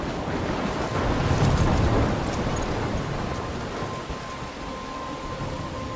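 A thunderstorm rages in Life is Strange, with heavy rain and wind rushing in a dense wash and a low rumble of thunder swelling early on before easing, with no one talking.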